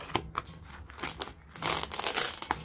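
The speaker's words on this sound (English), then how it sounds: "I need to pop off this fun little display sticker here" A display sticker peels off the lid of a Pit Boss 700FB pellet grill with a few close, crisp tearing and crinkling bursts, ending in a longer ripping stretch.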